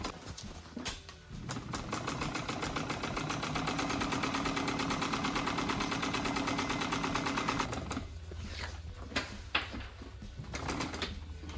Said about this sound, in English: Most of the seat's sewn up.